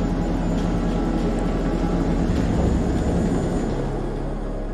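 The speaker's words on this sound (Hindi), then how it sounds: "और इसे हेलीकॉप्टर से लेने भी आ गए," A helicopter arriving in the video game Man of Medan gives a steady, loud, unbroken engine drone and rotor rumble throughout, with no voices over it.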